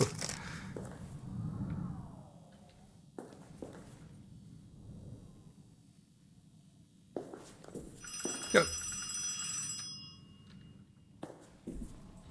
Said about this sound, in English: Or is that the phone upstairs? That might very well be the phone.